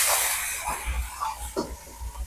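A loud burst of steamy hissing fades into a crackling sizzle, with scraping stirs and soft clatters as water hits a hot pan of chicken chilli.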